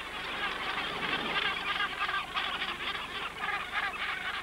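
A dense colony of Cape gannets on Bird Island, South Africa, keeps up a continuous chorus of harsh, overlapping calls, loud and unbroken throughout.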